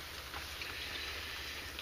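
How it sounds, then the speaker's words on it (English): Steady rain falls outside a home, a soft continuous hiss of drops on surfaces with a low background rumble, faint and unbroken throughout. "and if you hear any noise in the background, it's raining outside."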